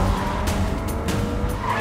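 Film car accelerating hard with tires skidding, a steady engine roar and squealing close by, with a few sharper bursts in the noise.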